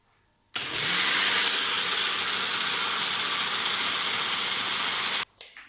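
A blender grinds raw mango with mint leaves for a summer sherbet, kicking on abruptly and running as a loud, steady motor whir for nearly five seconds before cutting off.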